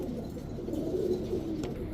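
Pigeons at a bird seller's coo with low, rolling, throaty calls that run steadily throughout, close and fairly soft, with no talking.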